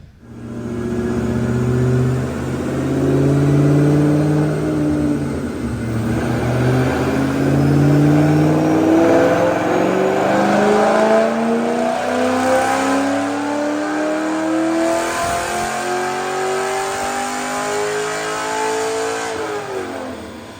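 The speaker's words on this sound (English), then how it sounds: "Check out this dyno pull." A 2009 Ford Mustang GT, all motor with Detroit Rocker cams, intake and headers on 91 octane, revs on a dyno. The loud engine climbs steadily in pitch through one long, continuous pull lasting about twenty seconds.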